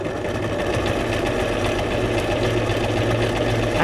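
Sewing machine stitching through a junk journal card with green thread, a steady close mechanical whir of rapid needle strokes running without pause, no speech.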